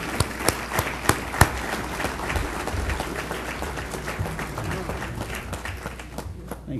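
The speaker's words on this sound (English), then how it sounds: "Let's give him a round of applause to Skip Hernandez" An audience at an awards ceremony applauds a Hall of Fame honoree, with a few sharp claps up front giving way to a steady wash of clapping that fades toward the end, with cheering and voices mixed in.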